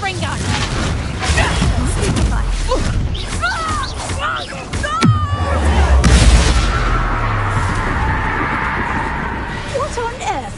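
A Confringo fire spell explodes in the Hogwarts Legacy video game, with a sharp bang around the middle and a rumbling low blast that swells and fades, all under game voices and a busy, layered soundtrack.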